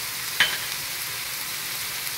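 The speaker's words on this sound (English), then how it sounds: "So what we're going to do now is add our 1 tablespoon of caraway seeds" Caraway seeds are added to onions frying in a pan for Austrian-style Hungarian beef goulash, with one sharp little clink followed by a quiet, continuous sizzle.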